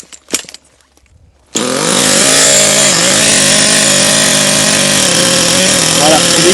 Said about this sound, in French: je vais venir mettre mes petits coups de démarreur